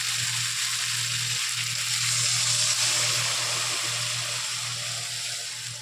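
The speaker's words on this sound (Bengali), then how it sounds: "পরিমাণ মতন জল দিয়ে দিলাম" Water pours into a pan of sautéed curry with a steady hiss and sizzle that runs unbroken for several seconds, close by over a low constant hum.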